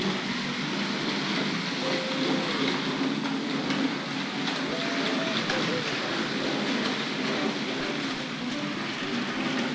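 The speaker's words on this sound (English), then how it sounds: "So it's quite a lot of wheels on individual wagons going to come across this next set of point work." Hornby model railway wagons rolling over a set of points, a light continuous rattle of small wheels on track amid steady background hiss, with a voice talking over it.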